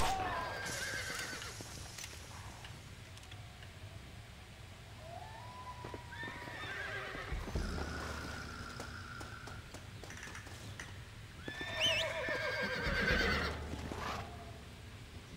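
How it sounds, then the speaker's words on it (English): Horses in the Red Dead Redemption video game whinny several times, with a rising neigh near the middle and another loud burst toward the end, over clip-clopping hooves and steady background game ambience. "Looks like Carlos left us some horses"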